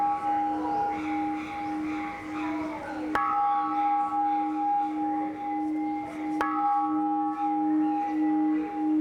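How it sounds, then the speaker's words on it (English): A temple bell in Myanmar rings with a long sustained tone, struck again twice at roughly three-second intervals, each sharp strike renewing the bright ringing hum. "I've been told that if I strike this bell 3 times, I'm sharing my merit with the universe."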